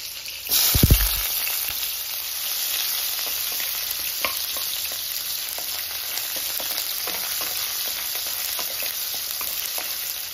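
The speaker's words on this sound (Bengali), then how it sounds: "ওই দিকটা বল মাছ ভাজতে শুরু করবো" Bola fish fries in hot oil with a steady, close sizzle that carries through the whole stretch, opening with a brief clatter or thump as the pan is handled, and no talking.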